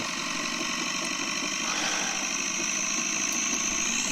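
Gyroplane engine running during rotor pre-rotation, a steady close-up drone with a constant pitch and even loudness throughout.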